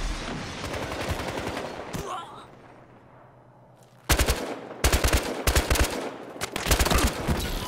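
Battlefield Hardline on Xbox One, a Heist match at the Bank Job map: loud automatic gunfire fills the opening, drops to a quiet lull, then sharp repeated bursts return close and heavy, with a voice briefly heard.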